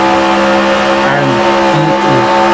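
A simulated race car engine in a PlayStation stock car racing game drones loudly and steadily at full throttle, its pitch wavering slightly, with a voice talking over it.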